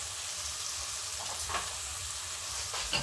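Chicken with curry sizzles in a pan as it is stirred, a constant bright crackling hiss with a few scraping stir sounds rising briefly above it, close and continuous, without talking.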